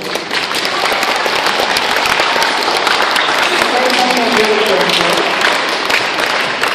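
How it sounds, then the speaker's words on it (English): A middle school audience gives ASB student leaders a round of applause, steady loud clapping from a large crowd in a hall, with some voices and cheers mixed in. "give your ASB leaders a round of applause up here"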